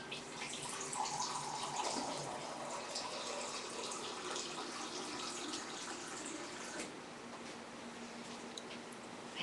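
Distilled water runs and splashes steadily into a container for sprouting seeds such as honey wheat berries, a continuous close trickling wash that eases slightly toward the end, with no talking.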